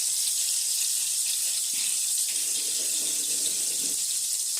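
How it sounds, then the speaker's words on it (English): A kitchen tap runs steadily while hands are rinsed under it, a close, even hiss of flowing water with faint splashing and no voices. "And I just had to go rinse my hands off and stuff like that."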